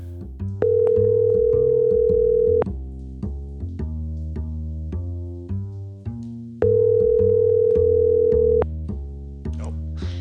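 An unanswered telephone call rings out as repeated electronic ringback tones, each long steady beep followed by a pause, cycling twice over a steady musical tone bed, with no voices.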